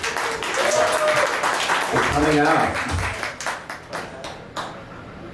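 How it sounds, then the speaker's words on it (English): Audience applause at a fashion show following New York Fashion Week, a crowd clapping steadily under a voice speaking over it, then tapering into scattered claps. "So give yourselves a round of applause"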